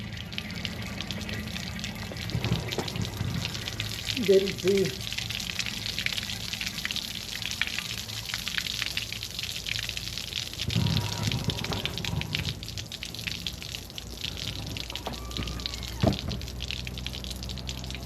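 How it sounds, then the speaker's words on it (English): Water gushes and splashes steadily out of the gas tank fill spout of a 1927 Dodge Brothers sedan, a continuous close wash of spattering with someone briefly talking over it. "got water coming out the fill spout"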